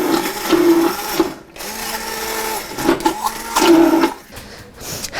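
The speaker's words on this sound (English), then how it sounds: "when you're using that soup pureer like that, you can continue to puree that till you get it the thickness that you like" An immersion blender purees strawberries for jam, a loud close motor whine that rises and falls in pitch as it runs, briefly cutting out and starting again.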